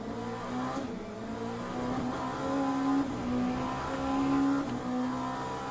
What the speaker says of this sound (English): My brain wants to shift in that 7th gear so hard every time you rev out 6th.